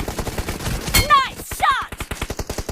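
Gunshots in PUBG Mobile: a fast run of sharp, evenly spaced automatic shots, loud and close, with chirpy voice-like tones briefly overlapping in the middle.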